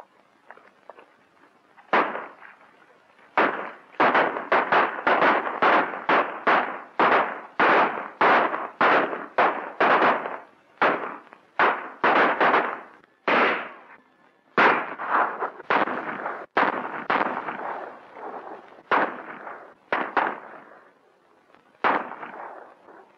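Rapid, loud gunshots ring out one after another in a western movie shootout, with irregular bursts of reports and short gaps over more than twenty seconds.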